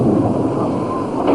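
Heavy rain falls with a rolling rumble of thunder, a loud, dense roar that fills the short stretch without pause. No voices are heard.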